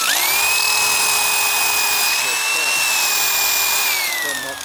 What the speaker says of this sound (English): Thumping and banging into the brick.